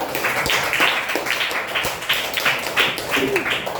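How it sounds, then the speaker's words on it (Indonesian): A classroom of students applauds with steady, dense clapping and a few voices underneath, loud and close throughout. "Kita tepuk tangan yang meriah."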